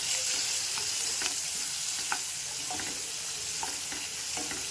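Onions browning in a pan with a pinch of turmeric, a steady close sizzle broken by repeated scraping stirs of a spoon.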